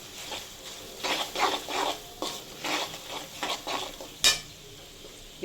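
Kashmiri chili powder stirred into hot oil for a homemade mango pickle, with a spoon scraping and clinking in the pan in repeated strokes over a quiet sizzle, close and fairly soft, ending with one sharper clink.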